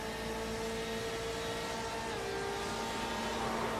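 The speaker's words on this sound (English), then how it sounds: "bump draft there towards Brandon White, but that contact to him immediately upset the rear of that Porsche and just sent it around" Onboard sound from a Porsche GTE race car at Le Mans in a sim racing game: a steady, loud engine drone with a sustained whining tone throughout, with no clear crash impact.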